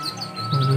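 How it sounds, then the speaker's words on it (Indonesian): Pet birds kept at a house in a village yard give short chirps and tweets over a low background hum, growing a bit louder near the end. "tuh ada suara burung ya. Karena memelihara burung."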